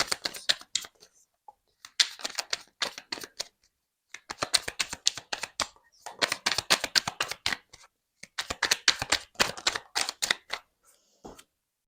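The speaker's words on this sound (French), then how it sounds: "On va prendre une carte du petit oracle du tarot pour vous, les poissons." Small tarot oracle deck being shuffled and handled, rapid clusters of crisp card flicks and riffles in several bursts with short silences, close and fairly soft, no voices.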